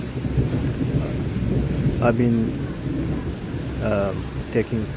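Heavy rain with thunder in Lahore, a steady loud wash of rainfall with a low rumbling background, while someone speaks briefly over it.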